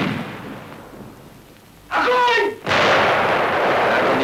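Heavy cannon blasts roar loudly in a film scene, a dense booming rumble that briefly drops away before erupting again, with no talking.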